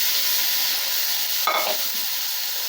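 White peas being stirred in a hot pan with tempering for sundal, a steady frying sizzle with one brief louder scrape of the spoon near the middle.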